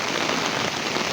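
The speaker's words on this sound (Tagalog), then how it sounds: "Pero malakas yung ulan." Heavy rain from Typhoon Ada pours down on a flooded eggplant farm, a dense, steady hiss of drops hitting surfaces, loud and close, with no talk.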